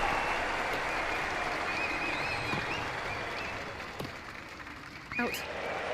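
Steady crowd applause in a VR tennis video game, a broad, even wash of clapping that holds through most of the clip and thins slightly toward the end, with a few brief knocks near the close.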